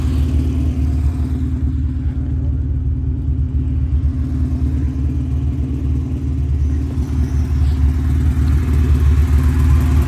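A Honda Civic EG sedan with a swapped-in H22 engine and H2B kit runs loud and close, a steady low mechanical drone with a rhythmic idle pulse that holds throughout.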